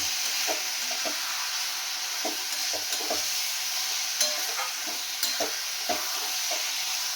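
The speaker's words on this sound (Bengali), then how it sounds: "এবারে আমি এটাকে ভালো করে একটু কষিয়ে নেব মশলার সাথে" Food sautéing with spices in a pan, a dense continuous hiss of frying with soft intermittent spatula scrapes, close and even, no voices.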